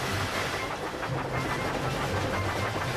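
A Hornby or Bachmann model Thomas the Tank Engine runs along its track, giving a steady dense rolling rush with faint rhythmic clicking throughout, close and continuous.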